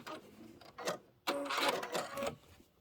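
A sewing machine stitches a fabric seam in short bursts, two quick runs of mechanical whirring separated by a pause, fairly quiet and close.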